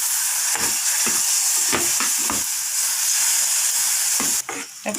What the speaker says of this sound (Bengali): সুজিটা ভাজা ভাজা হয়ে গেছে। এখন আমি এর মধ্যে দুধ দিয়ে দিচ্ছি।